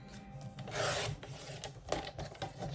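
Paper being trimmed for an ephemera folder, a short rasping scrape with a few rough strokes, close and fairly loud, with no talking.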